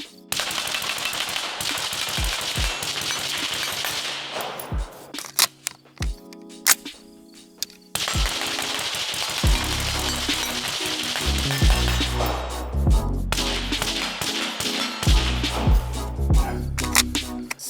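Suppressed 5.56 rifle shots from a short gun fitted with a Sig Sauer Hexium Ti suppressor, each followed by a ringing clang of bullets striking steel targets; repeated rapid bursts with brief pauses, loud and close, no talking.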